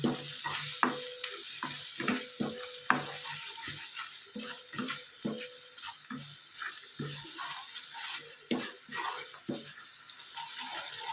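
A spoon scrapes and stirs steadily in a pan with a faint sizzle, repeated scraping strokes close up, no voices.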